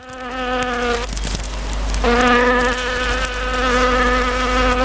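Bees buzz close by in tonal, wavering drones that break off briefly around the one-second mark and then resume stronger, with no voices over them.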